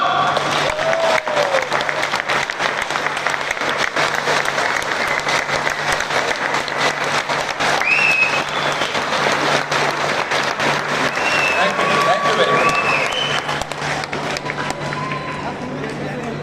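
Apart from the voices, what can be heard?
audience applause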